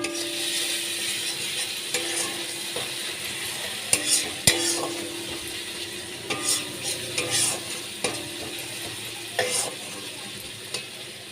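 Turmeric, salt and cumin powder fry in a pan with a steady soft sizzle, while a spoon stirs and scrapes the pan in occasional light clinks and taps throughout.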